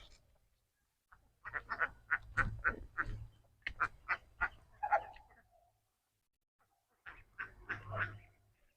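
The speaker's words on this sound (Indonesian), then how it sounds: "Yang lebih banyak di sini bebek ya." Ducks on a duck farm raised for eggs and meat quack in a rapid run of loud, nearby calls lasting several seconds, then go quiet before a second short burst of quacking.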